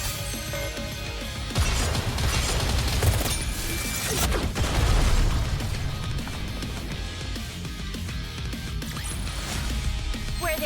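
A sound-effect explosion in an audio drama hits with a sharp crash, then a second heavy blast and rumbling debris follow, settling into clattering and scattered impacts under a dense mixed backdrop.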